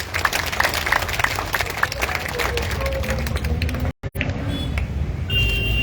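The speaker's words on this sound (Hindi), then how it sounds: "आप इतनी बड़ी संख्या में आए, एक बार जोरदार ताली अपने लिए" A large crowd at an outdoor political rally in Una claps, a dense, steady patter of applause that carries on for several seconds, with a brief dropout near the end and a voice over a loudspeaker.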